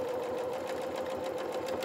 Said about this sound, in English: this is what you need to do if you're machine sewing it